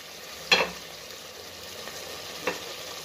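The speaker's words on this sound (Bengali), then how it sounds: "এঁচোড়টা একটু নাড়াচাড়া করবো।" Young jackfruit frying in a pan sizzles softly and steadily, broken by two sharp scraping clinks of a spatula being stirred through, the first louder than the second.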